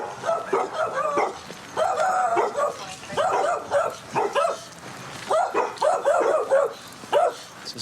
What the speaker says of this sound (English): Watch the dog.